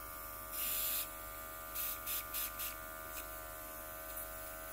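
Airbrush with a built-in compressor running, a steady electric hum and buzz beneath short hissing bursts of spray, one longer burst followed by several quick puffs.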